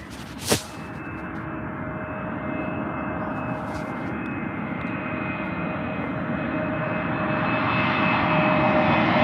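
A plane arriving at Manchester Airport produces a steady jet engine roar that builds slowly and grows louder, with a sharp click near the start and no talking over it.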